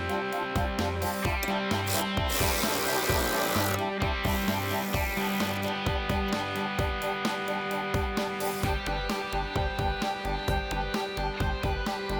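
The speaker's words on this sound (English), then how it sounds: "Basically get it into place, put one bolt on the other side, and then install all 4 bolts." A ratchet tightens the bolts of an Eibach sway bar during installation on a Fox-body car. It gives a steady, rhythmic run of clicking strokes, close and fairly loud throughout, with no talking.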